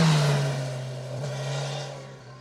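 A Kawasaki Ninja 1000 SX four-cylinder motorcycle engine revving in a loud, steady drone, its pitch dipping slightly and then swelling again, close by with no voices.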